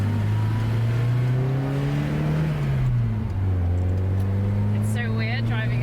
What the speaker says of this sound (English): So weird driving a manual car again.